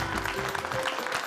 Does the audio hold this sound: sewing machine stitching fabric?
no